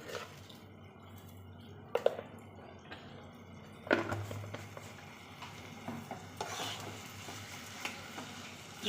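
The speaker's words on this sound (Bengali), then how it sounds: "চিনি দিয়ে এবার একটু নেড়ে নিচ্ছি" Cabbage being stirred with sugar in a pan makes quiet, wet scraping and squishing sounds with a few sharper clinks and a faint sizzle underneath.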